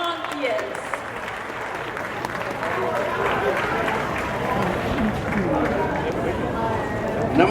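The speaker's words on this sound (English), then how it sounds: "let's give a round of applause to the man behind this Fiji festival" Crowd applause at a Fiji festival, a broad, continuous patter of many hands clapping from a sizable audience, steady and fairly loud, with a few voices mixed in.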